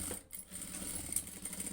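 A sewing machine stitches fabric and pieces together a garment's collar, a steady close mechanical whirr with a rapid rattling rhythm that dips briefly near the start, with no talking.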